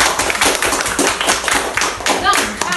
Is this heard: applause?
yes